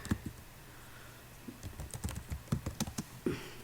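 Irregular clicks of someone typing a short word on a computer keyboard, close and fairly quiet, with no talking.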